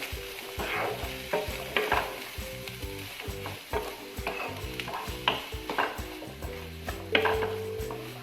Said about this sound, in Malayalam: സവാള ഒന്ന് നന്നായിട്ട് തന്നെ ഒന്ന് വഴന്ന് വരട്ടെ.